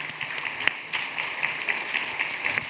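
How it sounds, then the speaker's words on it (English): Audience applause at a conference plenary panel, a steady wash of many hands clapping throughout, fairly close and unbroken, with no talk over it. "Give yourself a round of applause."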